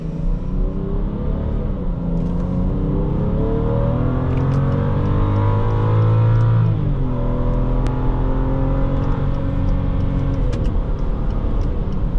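A 2012 BMW X5 xDrive35i accelerates hard from rest in a 0 to 60 run, its engine note climbing through the gears with shifts in between, loud and steady from inside the cabin over road rumble.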